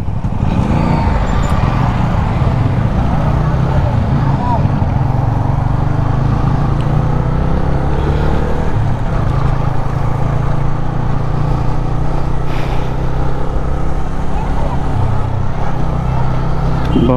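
A Bajaj Freedom 125 CNG motorcycle, a 125 cc bike, is ridden along a road, its engine droning loud and steady with wind rush, continuous throughout.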